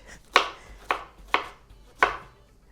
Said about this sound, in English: I'm going to chop this green onion.